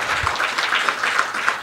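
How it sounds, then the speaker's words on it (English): Audience applause at a trade union's inaugural conference in South Africa, a brief, dense patter of many hands clapping at once, steady and fairly loud from a crowd in a hall. "give a round of applause, thank you"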